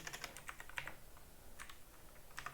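Quiet, close typing on a computer keyboard, with short clustered bursts of key clicks separated by brief pauses, no voices.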